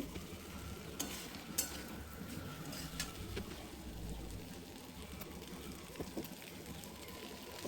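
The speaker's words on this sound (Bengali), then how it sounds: "এবার একটু ভালো করে নাড়াচাড়া করে ডিম আলু দুটোই আবার একসাথে ভেজে নেব" Quiet, continuous sizzle of duck eggs and potatoes frying together, with repeated scraping and stirring strokes in a pan, soft tapping clicks scattered throughout.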